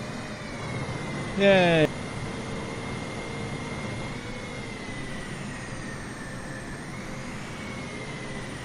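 Boeing 737-800 jet engines spooling up in Microsoft Flight Simulator 2020, a steady broad engine roar with rising tonal whine held throughout, briefly interrupted by a short cheer.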